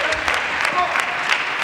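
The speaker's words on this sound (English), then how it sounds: "clapping in the booth" A commentator claps in the booth during a men's table tennis team match, a quick run of sharp, close hand claps repeating several times.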